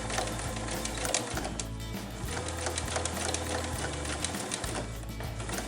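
A sewing machine stitches thick pleated fabric for a tie-on face mask, a fast steady mechanical chatter with brief pauses and shifts in pace, heard close and fairly quiet.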